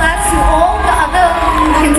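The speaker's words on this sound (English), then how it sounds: "Ladies and gentlemen, I think we deserve another round of applause." Audience at the Miss Shillong 2022 beauty contest finals cheering, whooping and applauding, a loud, dense crowd roar that keeps going through the moment.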